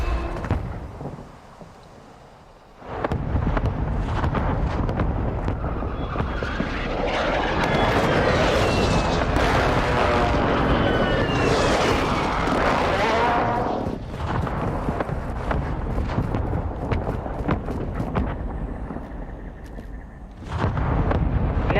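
Mortar strike explosions in the Call of Duty video game roll in as a loud, sustained barrage of blasts and rumbling, with aircraft-like roar layered over the chaotic battlefield mix for most of the stretch.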